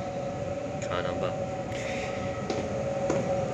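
A Waratah series train rolls into platform 10 at Redfern station with a steady rumbling hum and a tonal whine, a few brief clanks and squeaks on top, while a person talks close by.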